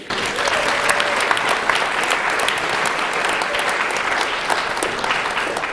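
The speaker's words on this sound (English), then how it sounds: "By a round of applause, how many people here appreciate the fine art of magic performed correctly?" Loud, sustained audience applause fills a magic show venue, a dense wash of clapping hands that holds steady from start to finish with no voices on top.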